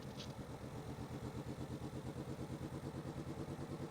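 A diesel locomotive engine in the train game Infinite Rails throttles up, a rhythmic pulsing chug at low pitch, fairly quiet and steady, with a short hiss near the start.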